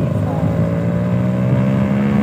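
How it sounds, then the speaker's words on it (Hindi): A motorcycle engine runs at a steady, loud, rough drone close by, holding an even pitch throughout with no clear rise or fall. "पंकज आ गया, इसकी बाइक का साउंड चेक करो"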